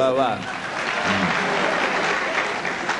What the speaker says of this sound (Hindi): अब ताली बजनी चाहिए, यहाँ पर बजती है।